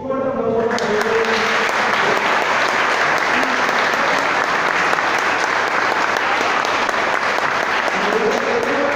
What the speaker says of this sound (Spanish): un fuerte aplauso a ustedes